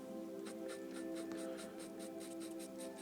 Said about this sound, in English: at the moment it's just putting down pastel on paper